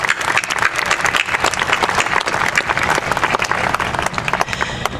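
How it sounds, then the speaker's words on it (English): Crowd applause at a city's State of the City address, a loud, sustained burst of many hands clapping filling the room throughout. "So they certainly need a round of applause."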